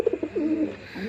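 A male pigeon at a Bangladeshi pigeon farm gives a short, close coo: a few quick soft pulses rolling into a longer throaty warble.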